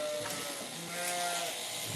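Sheep bleat across an open field on shearing day, several calls overlapping from middle distance over steady outdoor background noise.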